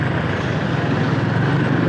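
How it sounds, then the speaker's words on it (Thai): Steady engine drone from a motorcycle taxi carrying a rider toward Ban Laem railway station, a continuous low rumble close by with no talk. "วันนี้เราก็นั่งวินมอเตอร์ไซค์ไปนะครับสถานีรถไฟ บ้านแหลม"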